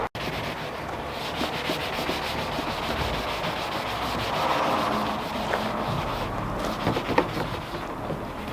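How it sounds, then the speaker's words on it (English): Steady, continuous scratchy rubbing of a light hand sanding on a Mk3 Golf car spoiler, fairly close, with a slight swell midway and a few small knocks near the end. "Gonna give this spoiler a very, very light sand"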